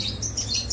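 A lovebird gives quick high chirps in a close, continuous run.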